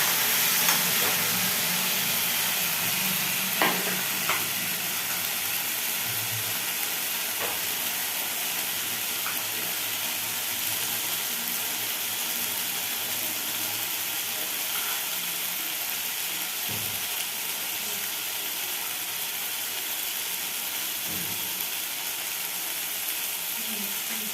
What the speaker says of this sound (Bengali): মাছের মাথাটা ভাজা ভাজা আমার হয়ে এসেছে